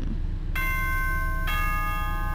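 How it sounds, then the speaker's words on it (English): A two-note doorbell chime from the Danganronpa video game rings loud and clear, the first tone sustaining before the second strikes about a second later, over a steady low background hum. "Ding dong."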